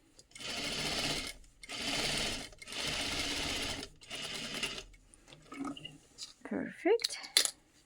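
A sewing machine stitches a dress lining in three long, steady bursts, each lasting over a second with short pauses between, followed by quieter handling noises and light clicks near the end.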